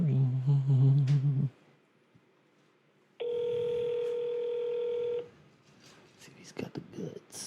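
Telephone tone played over a speakerphone: a steady, loud electronic tone holding for about two seconds in the middle, with talk before and after it.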